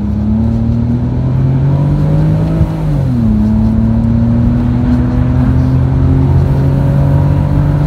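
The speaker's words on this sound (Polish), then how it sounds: "Rzędowa szóstka i fajny tłumik naprawdę robi zajebistą robotę." Inline-six convertible car engine with a custom exhaust and muffler revs steadily and loudly close by, its drone climbing briefly and then settling into a sustained hum.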